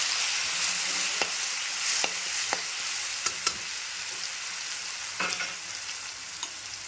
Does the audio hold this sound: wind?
no